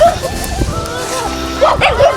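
Large dogs at a rural Filipino home yip and whimper in short high-pitched bursts close by, with voices talking around them.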